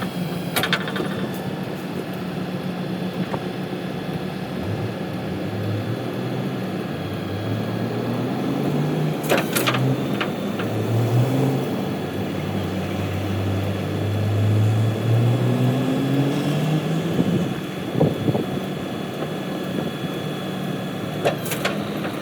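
Hydraulic bed of a Metro FB-15 flatbed tow truck lifting, a steady engine and pump drone with a rising, shifting whine and a few sharp metallic clanks.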